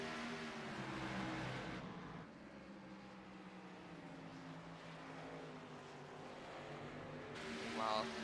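Race cars of the ISRC Championship Series at USA International roar on a restart, tires spinning, engines a continuous mid-distance drone under a commentator talking.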